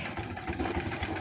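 A sewing machine runs a quick hem stitch on baby hoodie fabric, a brief steady motor whir with fast rhythmic needle pulsing heard close up.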